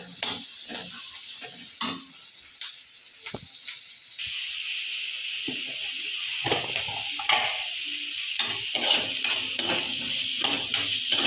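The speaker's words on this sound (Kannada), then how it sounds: "ಈರುಳ್ಳಿ ಮತ್ತು ಮೆಣಸಿನ್ಕಾಯಿ ಏನು ಹೆಚ್ಚಿಟ್ಕೊಂಡವಲ್ಲ ಅದನ್ನ ಹಾಕಿ ಚಲೋತ್ನಾಗ ಫ್ರೈ ಮಾಡ್ಕೋಬೇಕು" Chopped onions and green chillies frying in a pan for a radish-leaf palya make a steady close sizzle, broken by repeated spatula scrapes and stirring clinks.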